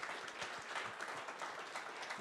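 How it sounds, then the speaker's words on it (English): Applause from the audience at an accelerator showcase, sustained dense clapping that is fairly faint and distant, lasting the full couple of seconds with no voices on top. "All right, one final applause for the teams."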